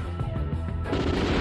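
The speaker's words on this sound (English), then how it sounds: "Heavy machine gun." Heavy machine gun fire in the Metal Slug 6 arcade shooter on the Bay Bridge mission, a rapid, continuous rattle of shots with explosive crashes building louder toward the end.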